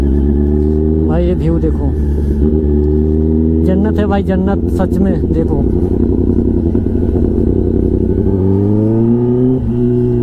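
A Kawasaki ZX-10R with an SC Project exhaust, its engine droning steadily with a few rising revs, while a rider talks over the sound throughout.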